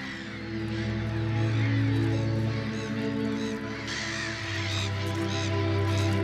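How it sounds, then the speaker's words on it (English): Black-headed gulls call over a lake in the Lusatia wilderness, giving repeated harsh, cawing cries at middle distance over a steady low background hum. "Black-headed gulls are straight on the scene as soon as the fishing is dried up."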